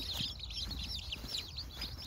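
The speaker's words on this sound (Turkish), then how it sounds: "Bakın, yumurtacı tavuklar." Laying hens in a village coop cluck and chirp in a dense, continuous chatter of many birds, close and moderately loud.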